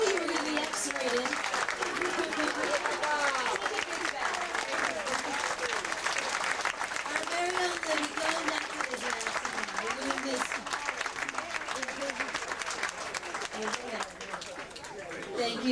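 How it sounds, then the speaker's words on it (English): Sustained audience applause for a stand-up comedian at a comedy show, dense clapping with crowd chatter and voices mixed throughout. "One more round of applause."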